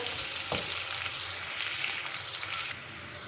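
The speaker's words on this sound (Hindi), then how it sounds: "प्याज को हमें लाइट ब्राउन पिंक कलर देना है। इसे हमने जलाना नहीं है।" Onions frying toward light brown in a pan for creamy chicken karahi: a steady, close, even sizzle with a soft stir or two, and no voices.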